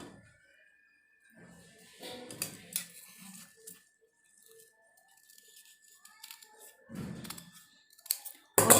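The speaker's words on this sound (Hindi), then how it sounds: "ये बीच में से भी हम इसको भी काट लेंगे साथ के साथ।" Scissors cut fabric pieces for a designed dress sleeve. Crisp snips and clicks come close up in irregular short clusters, separated by quiet pauses.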